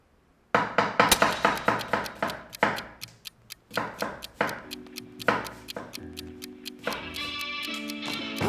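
Fast knife chopping of an onion on a cutting board, a rapid run of sharp, close taps in quick bursts with brief pauses, followed by a few pitched ringing tones near the end.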